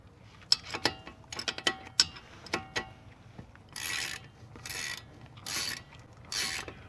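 A ratchet wrench turns the brake caliper bolt on a 2011 Lincoln MKX, first in quick irregular clicks, then in four longer rhythmic bursts of ratcheting, close and clear with no talking.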